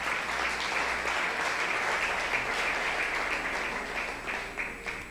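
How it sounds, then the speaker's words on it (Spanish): A church congregation applauds steadily and fairly loudly for about five seconds, a dense sustained wash of clapping with no voices over it. "¿Cuántos aplauden el nombre del bendito sea?"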